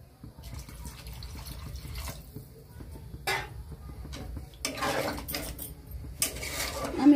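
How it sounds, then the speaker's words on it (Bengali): A little more water poured into a pot of aloo dum (potato curry), with soft splashing bursts among kitchen clatter of pots and utensils, fairly close and moderate in level. "আর একটু জল দিয়ে দিচ্ছি।"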